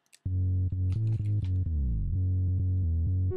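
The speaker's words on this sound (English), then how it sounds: "So the sub bass sounds like this." A synthesized sub bass patch built in Reason for a remix, playing a loud, deep, sustained riff of held low notes with one gliding pitch bend partway through, alone with no voices.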